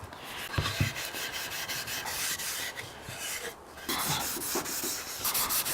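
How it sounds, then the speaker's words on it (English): Cloth wiping wax across a wooden router-carved sign: steady, close rubbing strokes with a brief lull partway through, then the rubbing resumes. "So anyway, we're going to apply the wax now. I'll wipe that on."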